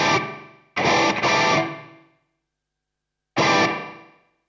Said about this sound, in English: We've also got the reverb on. We can turn that up quite a bit. Let's get it really wet.